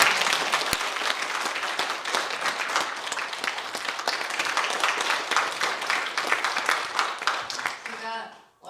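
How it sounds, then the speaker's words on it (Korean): An audience at a public hearing on drug-addiction prevention legislation claps together in a thick, sustained burst of applause that stays even for several seconds, then tapers and fades out at the end. "의장님 이렇게 해주신 것에 대해서 한번 박수 한번 주시고"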